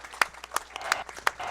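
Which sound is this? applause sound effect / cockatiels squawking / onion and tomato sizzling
applause sound effect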